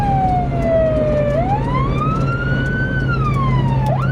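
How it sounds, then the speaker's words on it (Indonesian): An ambulance siren in the mode used for carrying a corpse wails, sweeping slowly down and back up in pitch, steady and loud over a constant low engine hum, with a quick rising whoop at the end. "Kalau ini membawa sirine jenazah."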